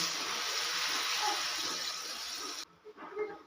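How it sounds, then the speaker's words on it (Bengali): Water pours in a steady rushing stream into a pan of cooked masala for a couple of seconds, then stops abruptly, leaving quieter bubbling and settling sounds close by. "এবার আমি অ্যাড করে দেব জল দিয়ে দিলাম পরিমাণ মতো জল"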